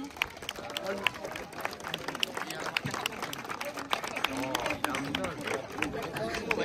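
A crowd at a motocross event applauds the 125cc podium outdoors, scattered clapping mixed with chatter and a loudspeaker announcer talking throughout.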